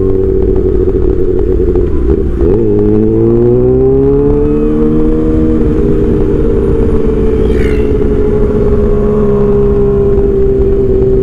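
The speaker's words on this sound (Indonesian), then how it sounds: "Ini knalpot gacor banget." A 600cc motorcycle with a loud aftermarket exhaust revs hard close by, its deep droning note climbing and settling through several throttle blips over about eleven seconds, with no talk.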